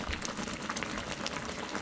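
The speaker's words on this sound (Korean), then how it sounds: "어묵하고 양파가 완전 푹 익을 때까지 좀 끓여주세요" Tteokbokki broth with fish cake and onion bubbles at a steady boil, a dense, continuous crackle and fizz of small bursting bubbles heard up close with no talking.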